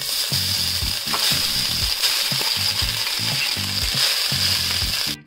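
Cooked rice is stirred into garlic frying in a pan, giving a steady loud sizzle with repeated scraping strokes of a spatula in a regular rhythm, close up and without talk, ending with a brief clatter.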